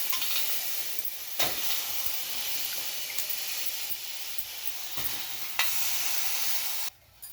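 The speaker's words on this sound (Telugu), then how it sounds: "కొంచెం ఆయిల్ వేసుకొని పచ్చిమిర్చి కూడా బాగా వేయించుకోండి." Green chilies fry in a little oil for a peanut chutney, giving a continuous bright sizzling hiss with occasional brief clicks and scrapes, close by and fairly steady until it cuts off near the end.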